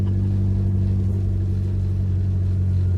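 A loud all-wheel-drive Nova race car engine idles with a deep, steady, droning rumble, close and constant throughout with no letup.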